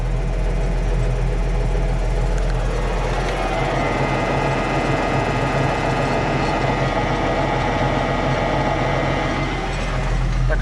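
A John Deere 6820 tractor's heavy engine drones loudly and steadily, with a continuous mechanical whine and rattle from its running power take-off close by.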